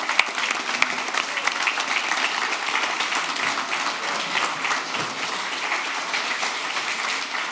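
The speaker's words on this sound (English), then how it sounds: "Let's give them a huge round of applause" A large conference audience at CodeGarden 2025 gives dense, continuous applause for the awards show hosts. The clapping stays full and loud throughout, with faint crowd murmur mixed in.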